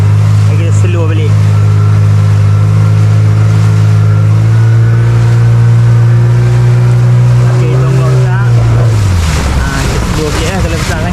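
A small fishing boat's engine drones loudly and steadily over big waves at sea, its pitch holding and then dropping as the throttle eases, with wind and water rushing throughout.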